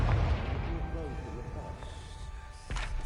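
A blasting Confringo spell in Hogwarts Legacy bursts with a heavy boom at the start, followed by a lingering rumble and crackle and a second sharp hit near the end, mixed with game sounds.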